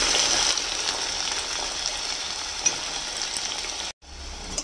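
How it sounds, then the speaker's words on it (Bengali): Potatoes frying in mustard oil in a pan give a steady, loud, close hiss and crackle that runs almost unbroken, then drops out briefly and returns near the end. "এই আলুগুলোকে আগে একটু ভাজা করে নেব।"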